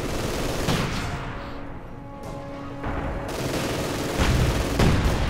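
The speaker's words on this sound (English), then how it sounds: "Grenadiers there getting plastered with dirt and explosives." Dense gunfire and explosions from the WWII strategy game Company of Heroes 2, with rapid crackling bursts and booms rolling through a busy 2v2 battle, loud and continuous.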